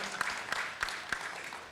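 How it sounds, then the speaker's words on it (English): A faint, brief round of audience applause at a Green Economy Forum panel session, thin and distant with a handful of sharper claps standing out from a soft, steady patter. "Let's go with an applause so that we can warm up a little bit this morning."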